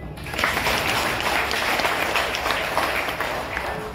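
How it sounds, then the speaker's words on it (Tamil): Steady applause from an audience, dense continuous clapping at close range lasting several seconds without pause. "இப்போ நீங்க கை தட்டிக்கலாம்."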